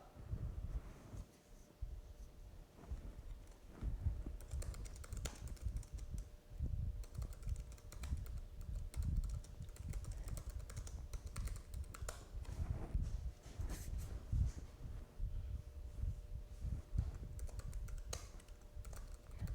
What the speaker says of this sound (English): That's why you hear me typing real quick.